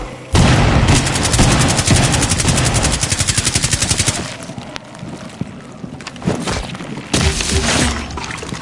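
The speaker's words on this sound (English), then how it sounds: "Detonating cluster charge" Cluster charge detonating in the video game Rainbow Six Extraction: a rapid string of sharp blasts and crackling bursts for several seconds, then scattered pops and a final loud burst, with no talking.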